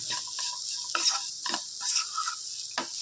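Turmeric and ginger-garlic paste are stirred into a frying pan for a bitter gourd egg curry: a soft background sizzle broken by several distinct scraping strokes of a spoon.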